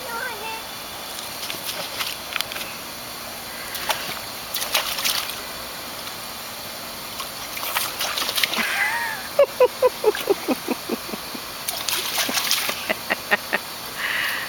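Water splashes and squirts in bursts during backyard play with a baby and a toy duck, with a quick run of rhythmic spurts near the end and voices talking over it.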